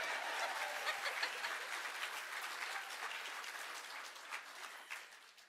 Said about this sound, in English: go ahead and give us a round of applause right now